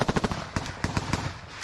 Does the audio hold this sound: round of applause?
no